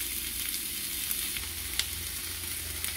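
Chicken pieces fry in a pan, turned so they brown, giving a steady close sizzle with a low rumble and occasional sharp pops and crackles throughout, with no voices.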